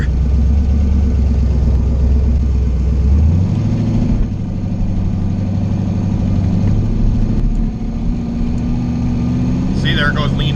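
A Chevstang running a MicroSquirt tune drones steadily at close range, its engine note dropping and shifting after a few seconds as it settles into a smoother cruise, with low harmonics continuing to the end.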